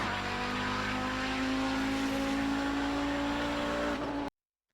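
An Audi 90 GTO race car lapping Donington Park, its engine droning steadily and loud from the cockpit with a sustained, slowly rising tone before cutting off abruptly near the end.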